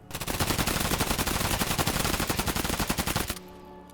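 Sustained automatic gunfire during recoil testing in the shooter game Escape From Tarkov: one rapid, evenly spaced burst of loud, close shots lasting about three seconds, then stopping abruptly.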